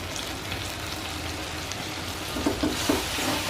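Lemongrass, bay leaves and lime leaves sauté in hot oil with spice paste, giving a steady close sizzle and crackle with a few louder stirring pops near the end, no voices.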